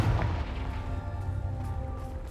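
A Confringo fire spell exploding in Hogwarts Legacy, a deep booming blast at the start followed by a rumbling low tail and game ambience, no talking.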